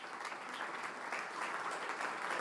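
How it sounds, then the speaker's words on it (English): Forum audience at an urban forum applauding, a continuous, fairly faint and distant wash of clapping from a large hall crowd. "let's applaud for sustainability."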